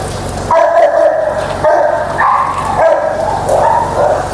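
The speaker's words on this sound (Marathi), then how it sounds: "ही लॅब जातीची श्वान आहे" A female Labrador barks repeatedly in a large dog boarding house in Pune, loud and close, in a steady rhythm of about four sharp barks over a few seconds.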